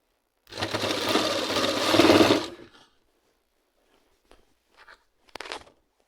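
Stitching an Afghani salwar, a sewing machine runs in one close, loud burst of rapid whirring for about two seconds, then stops, leaving only a few faint handling clicks and rustles.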